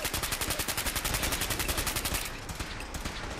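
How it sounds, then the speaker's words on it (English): A splatter cannon fires in a modded video game, a rapid steady burst of loud repeated shots for about two seconds, then a rougher trailing din after the firing stops. "No, I think I gotta use the splatter cannon for this."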